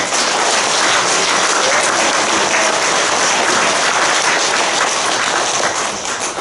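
A Korean church congregation at a Wednesday worship service applauds loudly and steadily, a dense wash of clapping that holds at full strength throughout with no voices breaking through.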